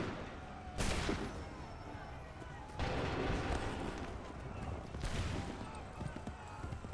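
Musket volleys from a line of soldiers in Assassin's Creed 3, three loud crackling bursts spaced about two seconds apart, each trailing into a rumbling echo, with a battlefield din underneath.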